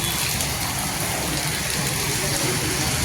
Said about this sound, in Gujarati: તો વરસાદ થઈ ગયો પાછો ચાલુ